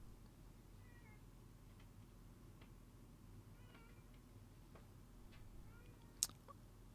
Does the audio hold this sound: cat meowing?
yes